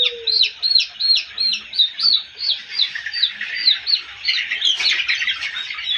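Young layer chickens, about 35 days old, on a farm during fowl pox vaccination keep up a loud, steady stream of high chirps and squawks, many birds calling over one another close by.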